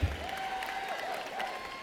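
Audience applause at a university commencement ceremony for an architecture, design and arts college, a steady burst of clapping from a crowd in a large hall.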